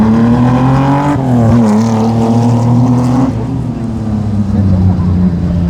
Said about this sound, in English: 6-cylinder Commodores are on their way